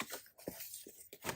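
A sharp blade scores through a hardboard panel laid over cardboard, giving a few short, close scraping and crunching strokes in quick succession with brief pauses between them.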